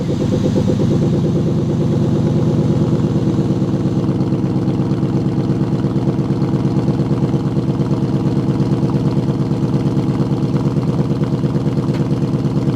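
A new car's engine runs at a steady, loud idle with an even low throb that holds without a break for more than twelve seconds.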